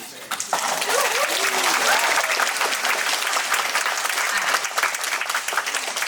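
An audience at a community meeting about a homeless shelter breaks into sustained loud applause that lasts several seconds and tapers slightly toward the end, with some voices mixed into the clapping.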